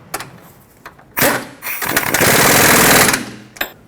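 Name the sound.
power tool snugging up a bolt on a car's front strut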